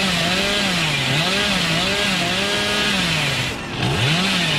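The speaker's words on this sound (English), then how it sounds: "I'm trying to get the chainsaw." Hillbilly's chainsaw in the horror game Dead by Daylight revs continuously, its engine pitch swooping up and down in repeated waves with one brief dip near the end; loud and close, with no talking.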